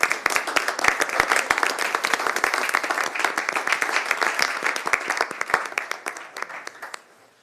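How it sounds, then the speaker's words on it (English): A crowd in a city council chamber breaks into a dense burst of applause, many hands clapping together for several seconds before thinning out and fading at the end. "let's give them a big round of applause for being here this evening"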